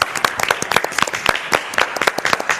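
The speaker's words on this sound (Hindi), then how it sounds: "तो पहले अपने लिए तालियां बजाइए" Scattered, uneven clapping from a small group on a reality show set, a quick burst of individual hand claps with irregular rhythm, fairly close, no voices over it.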